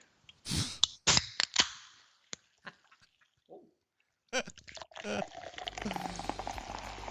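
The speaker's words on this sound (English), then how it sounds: "rate this pop top. Seltzer water, signature Walmart brand." A can of Walmart signature-brand seltzer water popping open: a sharp crack and fizzing hiss followed by scattered clicks, then louder clatter and background noise near the end.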